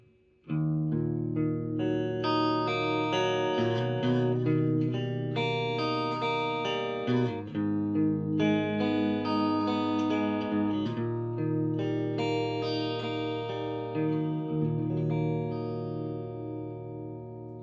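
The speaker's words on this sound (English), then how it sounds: "So as you can hear, you can get quite a versatile range of tones from this guitar" Clean electric guitar on an Epiphone Les Paul Custom Pro, middle pickup position with both pickups split, playing a steady run of chords and single notes, bright and shimmering with a light chorus-like sheen, continuous for the whole stretch.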